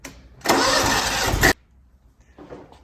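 A Wright lawnmower engine cranks and fires up in a loud, close roar that lasts about a second before cutting off, followed by quiet mechanical shuffling.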